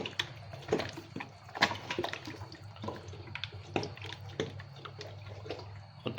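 Water poured into a pot of bhuna gosht mutton with spices, an irregular splashing and gurgling close by, with no talk over it.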